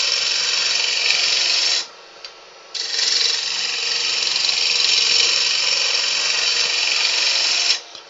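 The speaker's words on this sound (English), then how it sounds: "I'm just picking up the cup with the gouge" A gouge cutting a wooden goblet on a spinning lathe gives a steady, loud rasping hiss, breaking off briefly once as the tool lifts, then resuming for several seconds.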